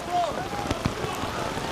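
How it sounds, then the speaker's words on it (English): Heavy rain drums steadily on a tent roof beside a canoe-kayak polo match at an outdoor championship, a dense broadband patter with a few louder taps, while a commentator's voice is faintly present. "raining very, very heavily now. You can hear it on our tent"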